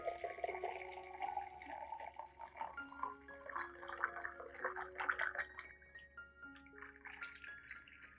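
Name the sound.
hot water being poured into container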